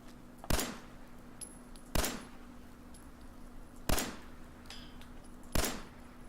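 Four sharp single gunshots from a weapon in Fallout 4, spaced irregularly about one and a half to two seconds apart, each a loud crack with a short tail over a quiet background hum, with no talking.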